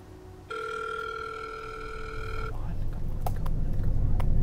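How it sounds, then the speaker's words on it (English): A phone rings unanswered on the line, one long tonal ring heard through a handset, followed by crackling background noise and rising rumble. "It's just gonna keep ringing."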